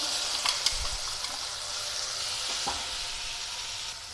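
Ground masala paste frying in oil with onions for cabbage pakodi curry, a steady close sizzle with a few soft stirring scrapes and no talk.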